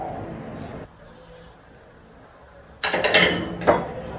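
A spoon stirs a simmering coconut milk mixture for Kapampangan tamales in a metal pot, a burst of scraping and clinking against the pot near the end, following a stretch of quiet room sound, with talking heard at times.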